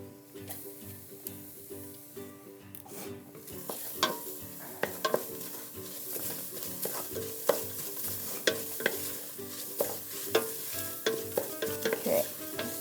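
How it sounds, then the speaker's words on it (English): Garlic sizzles steadily in a hot pan while being stirred, with repeated utensil scrapes and taps over the continuous frying hiss, close and without talking. "Okay, I'm going to put the garlic in now."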